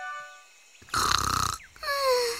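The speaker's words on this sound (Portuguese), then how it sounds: "Parece o ronco dela." Cartoon baby bear asleep on a pile of pillows, giving one loud, rough, rasping snore about half a second long between soft tonal music cues.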